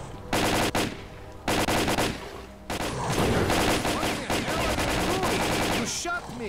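Bursts of automatic gunfire from the video game S.T.A.L.K.E.R.: Call of Pripyat, loud repeated volleys with short gaps, then continuous shooting and chaotic game sounds with brief whistling tones near the end.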